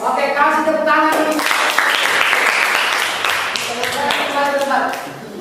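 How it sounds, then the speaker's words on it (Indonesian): A classroom of pupils claps their hands at a teacher's prompt, a loud burst of rhythmic clapping in the middle, with children's and adult voices speaking before and after. "kasih tepuk tangan dulu"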